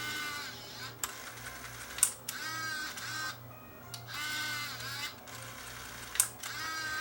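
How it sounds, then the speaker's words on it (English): A Sony BE V8 tape winder running 8mm videotape: a steady, quiet mechanical whir with a low hum beneath, broken by a few brief clicks and small tonal shifts, heard close up. "So it pulled the tape out just a little bit, just like that, over a couple of rollers to prevent the tape from being damaged"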